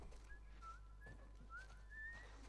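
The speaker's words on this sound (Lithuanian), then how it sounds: "Su ką jinai čia daro, švilpuje?" Melodic whistling from a character in The Last of Us on PS5, a wandering tune of rising and falling notes heard alone over a low steady background hum, fairly faint throughout.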